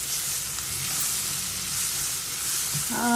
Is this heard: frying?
yes